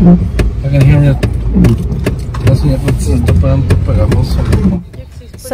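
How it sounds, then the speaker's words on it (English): A car engine with a newly started fault runs steadily with a rough, uneven mechanical rattle and repeated clicking, while people talk over it throughout. "I want to apologize for that noise my car's making"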